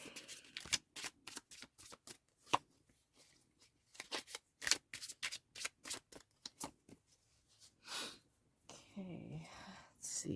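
Tarot cards are shuffled in rapid crisp riffles and flicks, close and quiet, with short pauses between bursts before a few cards are slid out and pulled. Soft whispered talk comes in near the end.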